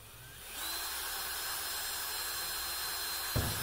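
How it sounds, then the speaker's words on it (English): A power drill with a small bit spins up after a short pause and whines steadily at high speed, close by, drilling holes in an aquarium lid, ending with a brief clunk. "So drilling the holes is simple, just a little drill bit"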